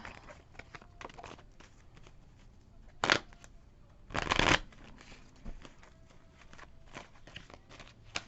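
Tarot cards shuffled close by, a steady papery flutter with two louder riffling bursts in the middle, moderately quiet throughout.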